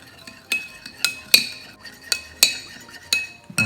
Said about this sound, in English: Then I will just take a spoon, mix this together.